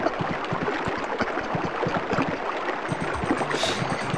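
Stacked water sound effects in a SpongeBob video game pile on each other as a dense, loud, continuous churning and bubbling roar with no break and no voices.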